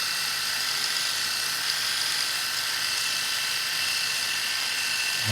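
An Enchen Blackstone 3 electric shaver runs continuously up close, giving a steady, bright, high-pitched motor whir with no talking.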